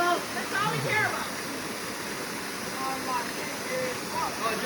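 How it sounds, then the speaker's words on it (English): Wolf Creek Falls in Banning State Park roars as a steady broadband wash of falling water, with people chatting and calling out over it at a relaxed outdoor swimming spot. "Pretty waterfalls."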